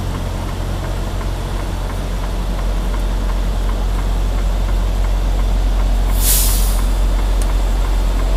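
A semi truck idles with a steady low diesel rumble during a delivery at a drop yard in Chino, CA. Near the end, its air brake releases one loud, sharp burst of hiss.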